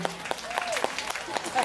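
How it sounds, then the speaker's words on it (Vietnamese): Wedding guests at a Vietnamese wedding ceremony clap in scattered, fairly regular bursts, with a voice and faint tonal sounds running over the top. "Xin quý vị cho một thầy một tràng vỗ tay."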